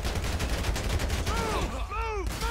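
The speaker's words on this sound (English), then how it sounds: "Oh shit, who's shooting me?" Rapid gunfire crackles in GTA 5, a dense burst of shots under shouting voices and short tonal calls.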